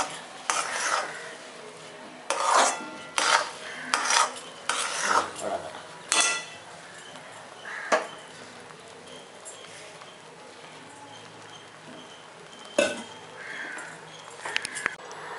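Rava kesari with ghee is stirred in a pan over the stove, bursts of close scraping and metallic knocks of a spoon on the pan alternating with quieter stretches and a faint sizzle.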